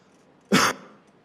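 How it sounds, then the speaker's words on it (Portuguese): A single short, sharp cough near the microphone, breaking an otherwise quiet room. "Me perdoem a tosse."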